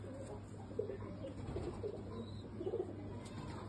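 A pigeon, a racing pigeon kept by a fancier, gives soft low coos in a few short bursts, quiet and close, over a steady low background hum with no talking.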